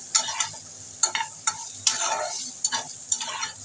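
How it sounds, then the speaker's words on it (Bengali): A spoon stirs raw mango chutney in a pan, making a run of distinct scraping, clacking strokes at an uneven rhythm over a soft, steady sizzle, close and alone without talk. "চামচটা কিছু ভালো করে নাড়িয়ে চাড়িয়ে"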